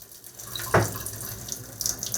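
Water runs from a rusty tap in a war-hit home in Mykolaiv where salty water flows, a steady splashing stream with a brief louder gush near the start, close and alone.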